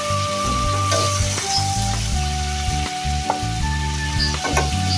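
Chicken frying in a pan for matar gosht with peas, a continuous close sizzle with occasional stirring clicks, heard under a steady musical backing with no talking.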